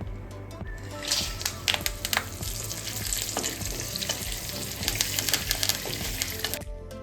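Split chickpeas, peanuts, cashew pieces and curry leaves fry in hot oil for a puffed-rice chevda, giving a continuous bright sizzle with scattered crackles and a few clinks of stirring.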